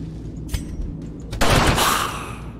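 A pistol fires in the turn-based game Darkest Dungeon, a sharp blast at mid-clip that rings out into a noisy burst, preceded by a softer thump over a low steady game rumble.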